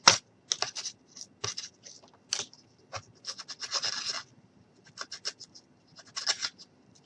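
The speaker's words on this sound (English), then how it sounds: "I'm just going to take my scissors and just run it because I want this to be distressed." Scissor blades scraped along the edges of paper to distress it for a DIY skeleton hand picture, a close series of quick, dry rasping strokes in irregular bursts, alone with no talk.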